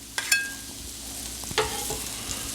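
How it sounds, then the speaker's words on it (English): Butter sizzles on a flat-top griddle where chicken fajitas were cooked, a steady frying hiss with a few sharp clicks and scrapes from a spatula, close and moderately loud, with no talking. "I'm going to put down a little bit of butter."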